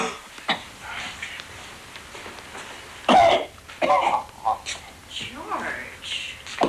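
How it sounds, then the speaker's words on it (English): A man coughs several times in harsh, separate bursts between stretches of quieter breathing and soft voices, all close by. "A cough."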